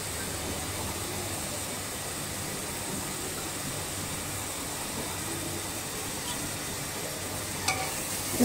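Chopped onions browning in a pan for a beef tripe dish give off a steady, even sizzle with faint stirring scrapes, unbroken and alone.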